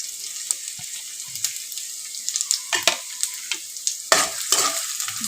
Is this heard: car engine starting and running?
no